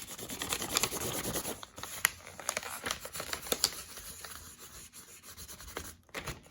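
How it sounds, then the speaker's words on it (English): Side of a crayon rubbed over paper laid on a shoe sole to pick up its texture, giving close, uneven scratchy strokes in quick bursts with brief pauses. "side of the crayon, and rub. And here comes a new texture."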